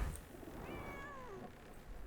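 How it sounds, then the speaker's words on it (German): A cat in the Sherlock Holmes: The Awakened video game gives a single drawn-out meow, faint and wavering, over a low murmur of game ambience. "Eine Katze."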